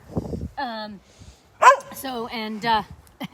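A dog gives several short, high yelping barks and whines in a garden, close by, with a brief voice mixed in.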